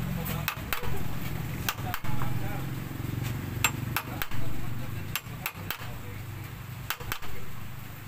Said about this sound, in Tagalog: Sisintrohan natin ito mga kabuknoy.